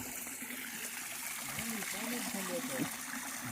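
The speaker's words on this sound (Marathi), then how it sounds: "हा तर इकडे बघा पाणी येते इथून खाली एक कुंड असं चालू झालं आहे" Water trickles and flows down into a rock pool after the first monsoon rain near the Channat waterfall in the Konkan, a faint, steady stream with a voice speaking quietly over it.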